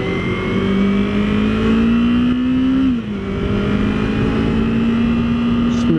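A 2015 Yamaha R3 300cc motorcycle engine pulls steadily under throttle while being ridden, its loud continuous drone rising in pitch, dipping briefly as it shifts, then climbing again, with wind noise throughout.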